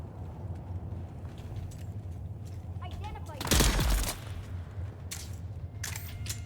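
Gunfire from a new weapon in Dune: Awakening, heard as a loud burst of shots in the middle followed by a few sharper cracks, set against low background noise, with a voice talking at times.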